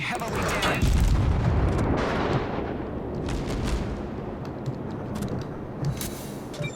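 Torpedo hits explode against a ship in the World of Warships destroyer game: a loud, deep boom followed by rolling rumbles and smaller blasts, with a voice partly over the noise.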